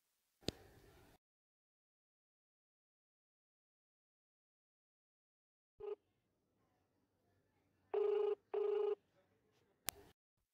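A pair of electronic ringback tones from an outgoing phone call sounds close together near the end, faint and steady, after a few scattered clicks in an otherwise quiet room.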